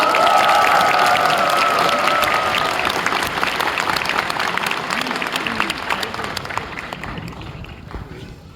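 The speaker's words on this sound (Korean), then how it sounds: "큰 박수 부탁드립니다" A crowd at a political talk show event applauds loudly as a speaker is called up, dense clapping with some cheering and a tone over it early on, gradually thinning and fading toward the end.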